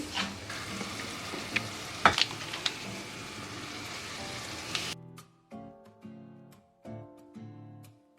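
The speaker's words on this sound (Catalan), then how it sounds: "S'ha d'anar remenant i que es vegi tot una mica més cuitet, una mica més doradet." Onion frying in oil and butter in a pan, stirred now and then: steady loud sizzle for about five seconds with a few sharp spatter pops, then it cuts to quieter, intermittent clinks and scrapes.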